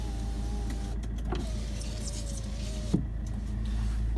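Electric windows on a 2003 Fiat Ducato Nu Venture camper conversion whirring as they move, a steady motor drone with a short clunk near the end, heard close inside the cab without voices.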